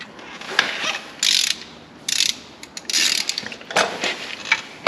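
Torque wrench clicking and ratcheting as bolts are tightened to 35 foot-pounds on a vehicle, a close, loud run of repeated ratchet bursts with short pauses between them.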